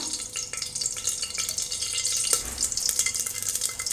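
Mustard seeds sputter in hot oil as the tempering for a fenugreek-leaf and radish palya, a close crackling sizzle dotted with sharp little pops scattered irregularly across the whole stretch, with no voices.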